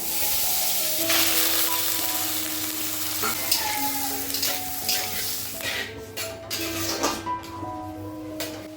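Bottle gourd fries in a wok with a continuous hiss and sizzle, while soft utensil scrapes and clinks come and go over faint tonal background sound.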